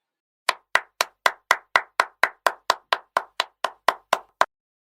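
Steady, evenly spaced claps at a neighbourhood party in a Haitian Creole comedy sketch, about sixteen sharp claps in an even rhythm, close and loud against silence.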